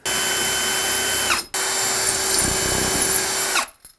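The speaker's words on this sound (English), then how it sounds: "I'm gonna take a drill bit that is slightly smaller than the screw, and I'm gonna pre-drill in from here" A power drill pre-drills a pilot hole through wood cabinets, whirring steadily, pausing briefly midway before starting again, then winding down at the end. Loud and close, with no talking.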